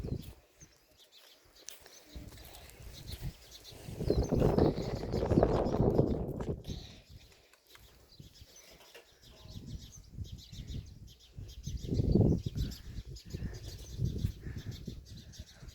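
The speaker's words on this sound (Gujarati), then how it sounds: "જો મિત્રો કબૂતરા ઉડ્યા." Pigeons taking off and flying, their wings beating in two loud broadband bursts of flapping, a long one early and a shorter one later, with quieter rustling and faint bird sounds between.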